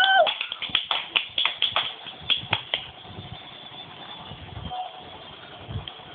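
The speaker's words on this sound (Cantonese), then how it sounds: "觀眾繼續拍手。" Audience clapping at a show, a run of distinct sharp claps in quick rhythm for about three seconds that then fades into a murmur with a few scattered taps.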